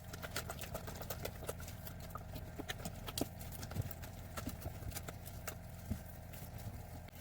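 Spice cake batter mixed by hand with a spoon in a bowl rather than a beater, a steady rhythm of close, quick clacks and soft scraping strokes repeating throughout.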